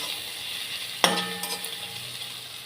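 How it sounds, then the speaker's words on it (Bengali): Ginger paste, onion and turmeric fry in a pan with a low background sizzle, broken by one sharp metallic clink of a utensil against the pan followed by brief stirring scrapes. "পেঁয়াজটাও ভাজা হয়ে গেছে, দিচ্ছি আদা বাটা। এটা একটু কষে নিতে হবে"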